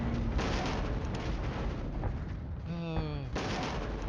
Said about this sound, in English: There is some artillery support coming in. Yeah, that's quite heavy.